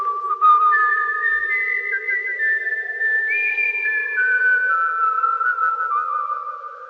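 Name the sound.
person whistling a favourite tune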